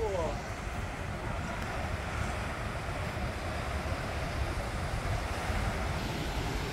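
Ocean surf at Bondi Beach in Sydney rolls in as a steady, broadband wash, with wind buffeting the microphone throughout and no clear separate wave breaks.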